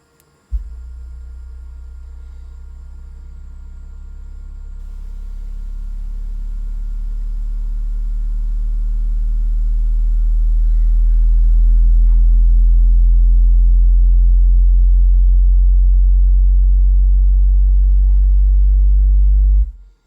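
A deep, steady low bass tone swells gradually louder and holds, droning continuously with a faint background hum and no voices.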